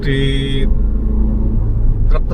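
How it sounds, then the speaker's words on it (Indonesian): Trucks rumble along the Sidoarjo–Pasuruan toll road, a heavy, continuous low engine and tyre drone close by, with a brief higher whine at the start and a passing whoosh near the end. "Truk-truk juga sudah banyak."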